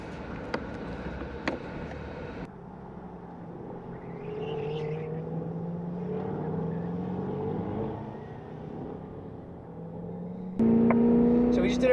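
Engine note from inside a Corvette lapping a race track at a Las Vegas racing school, with a steady engine drone whose pitch rises and falls through gear changes, louder near the end.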